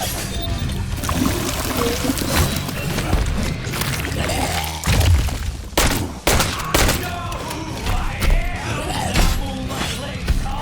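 Gunfire in the Tails of Iron video game, several sharp loud shots mixed with clanking mechanical effects, creaks and busy game sound, dense and close throughout.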